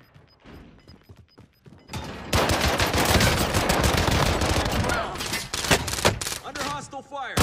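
Video game gunfire from a Call of Duty Warzone match: dense, sustained bursts of automatic weapon fire with sharp individual shots, loud and close, erupting after a quieter stretch and running to the end, with a voice briefly over it.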